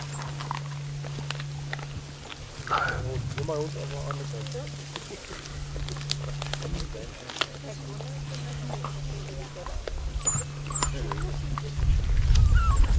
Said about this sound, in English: These dogs are very excited. They have a good meal like this.